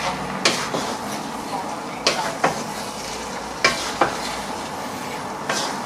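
Nigerian fried rice with prawns stirred in a sizzling pan, a steady frying hiss under repeated sharp scrapes and knocks of the spoon against the pan, close and fairly loud, with a little talk.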